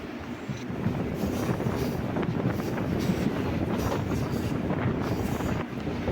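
A Kollam–Punalur MEMU passenger train rumbles steadily along, with continuous rolling wheel noise and carriage rattle at a constant level throughout, no voices.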